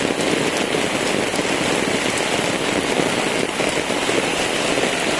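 Heavy rain pours steadily and loudly onto surfaces, a dense unbroken hiss with close spatters and drops throughout.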